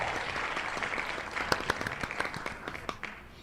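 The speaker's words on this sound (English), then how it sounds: "She's the only one clapping." A lone person claps at a game-show-style prize giveaway, a faint, sparse run of sharp claps gathering slightly in the second half.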